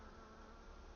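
Bees buzzing around an open beehive during an inspection, a steady faint hum with no voices.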